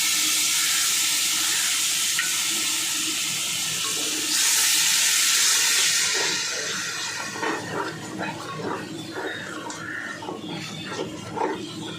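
Mutton biryani ingredients, including yogurt, sizzling and sautéing in a pan, with a steady loud frying hiss that brightens midway and then eases into softer, uneven crackling and stirring.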